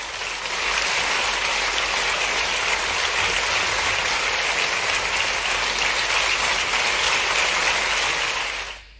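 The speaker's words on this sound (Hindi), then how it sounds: "जोरदार तालियों के साथ हम स्वागत करते हैं उमंग शिक्षा हेल्थ एंड वेलनेस कार्यक्रम का" An audience in Ravindra Bhavan, Bhopal claps to welcome the launch of a health and wellness programme, a dense, steady wash of applause lasting about nine seconds before it cuts off.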